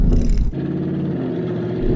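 An off-road vehicle, a Suzuki Jimny or Hummer H2, revs hard with wheels spinning on stones; a loud, close engine roar drops after a brief burst and then holds a steady droning note.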